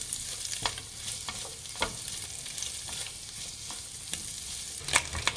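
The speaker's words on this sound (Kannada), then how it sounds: "ಇದು ಅಷ್ಟೇ ಒಂದು ಸ್ವಲ್ಪ ಫ್ರೈ ಮಾಡಿ ಫ್ರೆಂಡ್ಸ್" Vegetables stir-fry in a pan for egg noodles, a steady close sizzle punctuated by scraping and clinking stirring strokes, with no talking.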